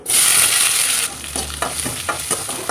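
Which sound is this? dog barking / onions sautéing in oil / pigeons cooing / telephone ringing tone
onions sautéing in oil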